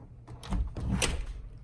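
A car door on a BMW E46 wagon opens and thuds shut, a short nearby clunk with a soft rattle, heard once with no talking.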